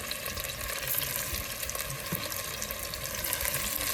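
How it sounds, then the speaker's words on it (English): Stew beef browning in a hot pan, a steady broadband sizzle and crackle running unbroken at moderate loudness, with no voices. "So now we're gonna put it in the pan and let it brown. You hear the searing"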